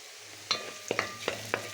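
Chopped onion sizzles softly in hot oil in a pan, with a few distinct clinks and scrapes as a utensil stirs it, steady frying hiss underneath.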